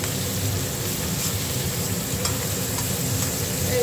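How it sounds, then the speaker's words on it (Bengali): Spicy prawns fry in a pan with a steady, loud hiss and sizzle while being stirred, giving a constant crackling texture and faint scraping, with no talking. "মোটামুটি একটু নাড়বো, নেড়ে নামিয়ে দেবো।"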